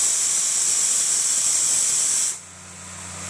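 Grated coconut, cumin powder and spices frying in a hot pan, giving a loud steady sizzling hiss that drops suddenly to a quieter hum near the end.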